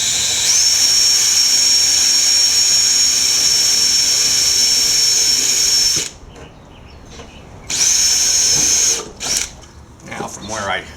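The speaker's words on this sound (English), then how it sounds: "drill the hole." Power drill boring a hole for RV windskirt skirting, a loud high-pitched whine held steadily for about six seconds, then a pause and a second shorter run, with handling noises and clicks as it stops.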